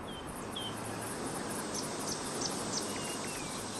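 A steady, dense insect drone fills the air, shrill buzzing like cicadas, with a few faint bird chirps scattered over the top.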